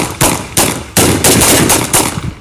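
A rapid burst of loud, close gunshots fired by police at a vehicle, several sharp cracks in quick succession with no talk.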